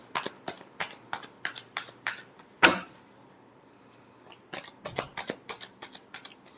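Tarot cards shuffled by hand in a steady run of crisp riffling bursts, a louder snap midway, a short pause, then more quick shuffles, close and clear with no voices.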